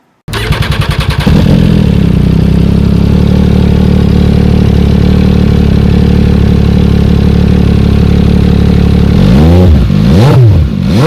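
An MV Agusta Superveloce 800 motorcycle fires up abruptly, settles into a loud, steady close-range idle, then snaps through a couple of sharp throttle blips near the end.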